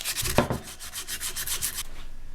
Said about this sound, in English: I'm just going to hit it with some 150 grit sandpaper to rough it up again